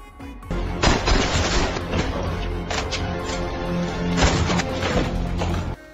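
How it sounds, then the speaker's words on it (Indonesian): Heavy film gunfight with dense, rapid gunfire bursts and crashing impacts, loud and continuous for several seconds before stopping abruptly. "Baku tembak terjadi."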